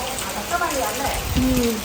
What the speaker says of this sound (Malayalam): നല്ല മഴ തുടങ്ങി